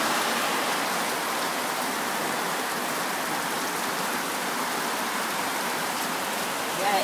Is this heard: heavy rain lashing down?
yes